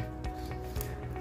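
A hacksaw cuts material during work on a minimalist house build, with quiet, rhythmic rasping strokes repeating at a steady pace, faint and alone.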